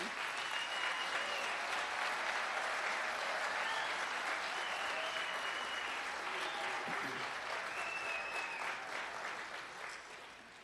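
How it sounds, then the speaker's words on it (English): Applause at a Desert Diamond Casinos gathering for a young tribal chairman, a sustained crowd clapping at moderate distance, even and continuous, easing slightly toward the end. "So give a round of applause for Chairman Joaquin."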